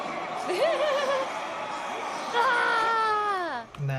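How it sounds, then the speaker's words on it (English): Group vocal walla for Styanax's ultimate ability in Warframe: layered ghostly voices wail and moan together in a dense crowd texture, with rising and falling pitched cries sweeping through, steady and fairly loud. "We also used group vocals on Styanax's ultimate ability"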